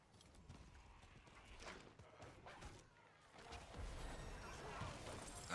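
Horse hooves clip-clop at a gallop in the action role-playing game Diablo 4, a steady rhythmic beat under combat noise with a neigh, fairly faint overall.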